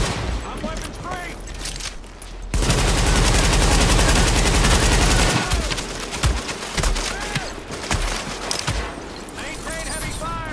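Heavy automatic gunfire in Tom Clancy's The Division video game, loud dense bursts of rifle and machine-gun fire, a sustained barrage in the middle with scattered shots and impacts before and after, with voices shouting between volleys.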